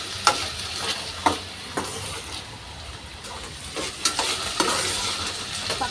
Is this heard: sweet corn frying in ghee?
yes